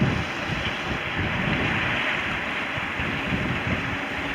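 A sailboat under a small genoa moves at five to six knots in a Norwegian fjord, with steady wind rush and the constant wash of water against the hull, loud and unbroken.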